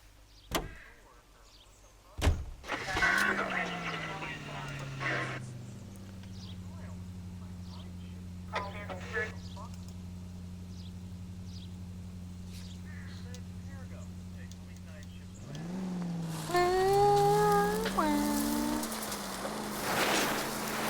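A car in the L.A. Noire video game hums with a steady engine drone for much of the stretch. The sound swells and shifts near the start and end, with brief clicks and a voice talking briefly toward the end.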